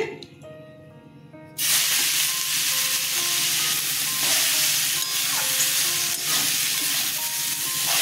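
Pointed gourds (potol) drop into hot oil in a pan, cutting off the quiet kitchen with a sudden loud sizzle that keeps crackling and hissing steadily, with a few sharper spits along the way.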